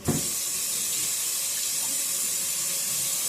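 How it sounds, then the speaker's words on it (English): A kitchen water tap runs in a steady, close, continuous stream while pizza dough is being prepared, with no talk over it. "I'm going to turn on some water so I have something to work with."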